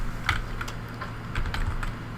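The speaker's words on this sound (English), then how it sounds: "I'm sitting here typing on the wrong keyboard." Typing on a computer keyboard beside a Mac G4 computer: scattered soft key clicks in small bursts over a steady low hum, close and fairly quiet.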